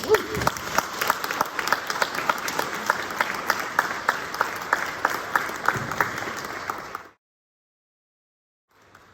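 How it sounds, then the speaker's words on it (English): A room of attendees at a human rights event gives a steady round of applause that sustains for about seven seconds, then cuts off abruptly into silence. "Let's give them another round of applause."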